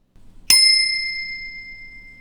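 A single soft bell struck once, used as a segment marker on a walk along the Bibbulmun Track, ringing out with a sharp attack and a long clear decaying tone over faint background hum.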